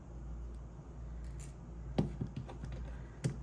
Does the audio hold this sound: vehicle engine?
no